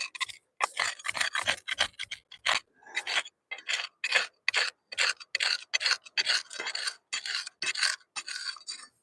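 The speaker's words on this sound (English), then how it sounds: "I think I'm going to have to sharpen my crevice tool here." A metal crevice tool is sharpened with a file in quick, close rasping strokes that come in short bursts with brief pauses between them, and no one speaks.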